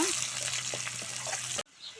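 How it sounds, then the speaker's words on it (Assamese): Onion frying in oil until golden brown gives a steady close sizzle with faint stirring scrapes, cutting off abruptly near the end. "পিঁয়াজটো অলপ ব্ৰাউন কালাৰ হোৱালৈকে ভাজি থাকিব।"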